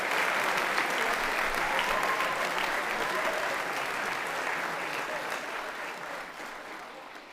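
A sustained round of audience applause at an awards show fills the room, steady and dense for several seconds before gradually fading toward the end.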